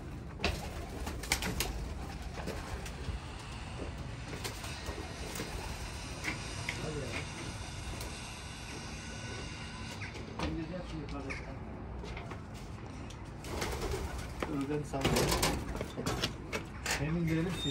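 Pigeons coo softly inside a busy Turkish pigeon loft, with fluttering, scraping and a steady background din and some talk mixed in.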